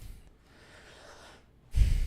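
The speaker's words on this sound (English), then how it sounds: "I had to blow my nose." A brief, soft exhale through the nose, then a louder, forceful blow at the end, close and muffled.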